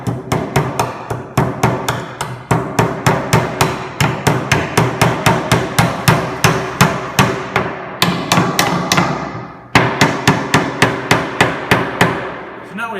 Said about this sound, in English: you're going to nail the wire down to the wooden board